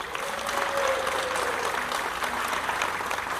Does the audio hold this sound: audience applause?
yes